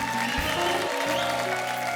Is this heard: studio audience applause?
yes